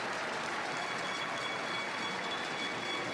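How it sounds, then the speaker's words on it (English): Basketball fans fill an arena with sustained applause and crowd noise during a Portugal versus France World Cup qualifier, a dense even roar of clapping with no clear breaks. "these fans around the arena applauding yet again"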